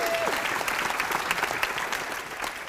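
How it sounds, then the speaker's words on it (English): An indoor campus audience bursts into loud, sustained applause. Dense clapping runs the whole moment, with a brief tone at the start. "Clap it up for MICA."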